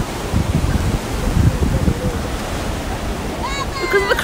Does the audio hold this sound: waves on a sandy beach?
yes